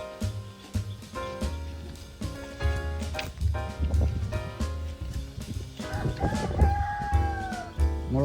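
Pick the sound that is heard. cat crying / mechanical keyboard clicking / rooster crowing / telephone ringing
rooster crowing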